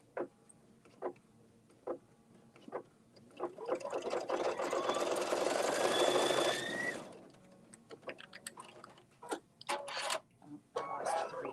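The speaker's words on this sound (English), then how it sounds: "now we're going to stitch the tops closed" A sewing machine runs in one sustained burst, stitching the tops of a fabric wine bag closed, with scattered clicks and handling knocks before and after.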